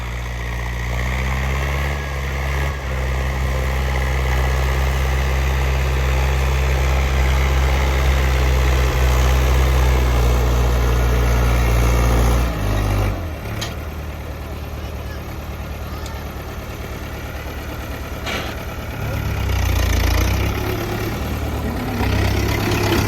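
A green New Holland 850 tractor engine idles steadily with a deep, continuous rumble close by, with voices at times.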